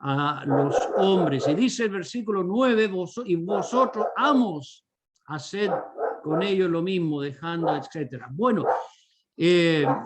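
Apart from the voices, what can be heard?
dogs barking in the background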